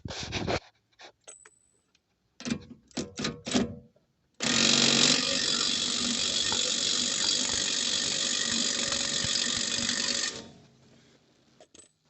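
A nut being tightened on the rear wheel bearing of a Hyundai Coupe Tuscani, heard as a few short clicks followed by a long, steady mechanical ratcheting run of about six seconds, close and fairly loud.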